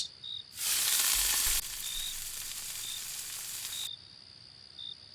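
Hilsa fish frying in hot oil, a bright loud sizzle bursting in for a few seconds, then settling into a softer steady crackle, with faint chirping insects or a high beep in the background and no talking.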